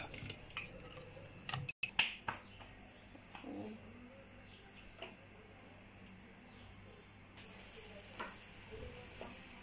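An egg paratha cooks on a tawa over medium-low heat, giving a faint, soft sizzle broken by occasional clinks and ticks of utensils, with quiet speech at moments.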